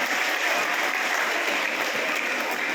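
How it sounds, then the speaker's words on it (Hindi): An assembled audience at a public distribution ceremony for construction workers' children applauds in honour of a guest, a sustained, even wash of clapping from a large crowd heard at moderate distance. "सदन से चाहता हूं जोरदार तालियां उनके सम्मान में बजाएं"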